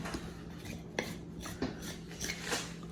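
A knife scores the membrane of raw pork ribs in a few short, scraping strokes, faint and close, each stroke a brief rasp against the meat, with no voices.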